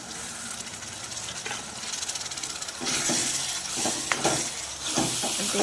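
Masala sizzles and fries in hot oil for a paneer curry, a steady bright hiss with occasional spoon scrapes and crackles that swells louder midway through.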